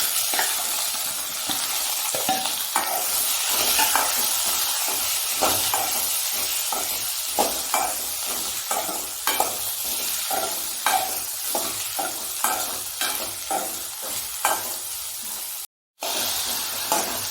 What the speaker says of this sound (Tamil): சின்ன வெங்காயம் சுரக்கா புளி எல்லாம் சேர்த்து நல்லா வதக்கிக்கணும்